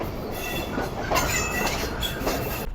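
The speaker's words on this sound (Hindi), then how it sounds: "तो ये काफ़ी अच्छी स्पीड में ट्रेन आगे बढ़ रही है।" The Rehman Baba Express runs fast in winter, heard from inside as a steady rolling rumble with faint wheel clatter and an occasional squeal, unbroken for the whole stretch.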